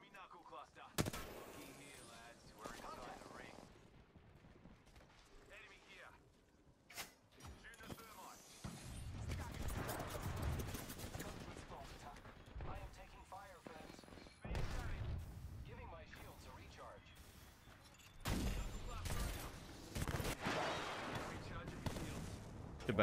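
A video game firefight against enemies, with clusters of gunshots and rapid bursts that come and go alongside explosive thumps and mechanical clatter, while a voice talks intermittently over the action.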